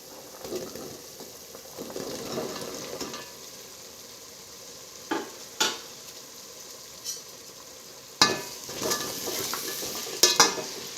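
Vegetables being stirred into a simmering tomato masala in a pan for vegetable biryani, with soft sizzling and scraping plus a few sharper spoon knocks toward the end, no talking.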